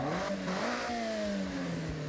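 Toyota AE86 engine in Forza Horizon revving in a steady high-pitched drone with gliding tones as the pitch shifts slightly, moderately quiet and without voices.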